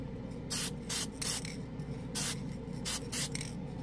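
Krylon Short Cuts spray paint hissing from a small can onto bare plastic in five or six short, sharp bursts separated by brief pauses, close and fairly quiet over a faint background hum.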